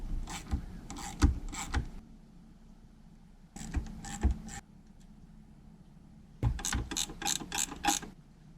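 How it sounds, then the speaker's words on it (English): Socket wrench ratcheting on a two-stroke engine, three close bursts of rapid clicking separated by short pauses, no talking. "I would put the wrench or the socket on there"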